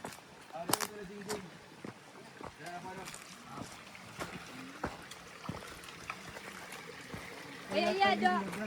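A river stream flows with a soft, steady trickle and occasional light splashes, heard close by beneath people talking, with a brief louder splashing burst near the end.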